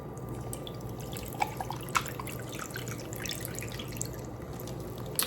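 Homemade lemonade poured into a glass holding a lemon slice, a faint, soft liquid trickle with a few small drips and splashes in a quiet kitchen.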